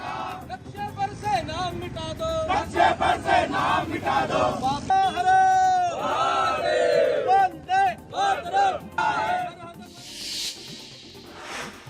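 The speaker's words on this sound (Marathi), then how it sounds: "तिरंगा फडकवत शौर्य गीत गात करण्यात आला जल्लोष साजरा" A celebrating crowd waving the tricolour and singing patriotic songs: loud massed voices chanting and singing together, with shouts and cheering rising and falling over a dense, busy outdoor background.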